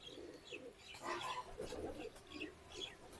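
A Teddy pigeon coos softly in a few short, close, repeated calls with brief pauses between them, quiet against a faint background.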